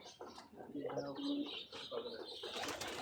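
Pigeons in a loft give soft, low cooing calls in a couple of rounded bursts, close and fairly quiet, with faint chirps and rustling around them.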